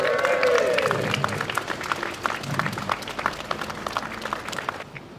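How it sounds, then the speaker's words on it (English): An audience gathered at an evening demonstration applauds the organisers, Garioch Women for Change, a thick burst of clapping that starts full, with a voice briefly heard at the start, and gradually thins toward the end. "Give them a big round of applause."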